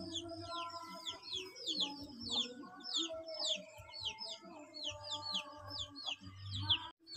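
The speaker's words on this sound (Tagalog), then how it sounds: "Guys, may manok na panabong din dito." Fighting cocks (gamefowl) clucking and calling in a rural Philippine barangay, several birds heard at moderate distance with repeated clucks and crowing-like calls, accompanied by high chirping from smaller birds.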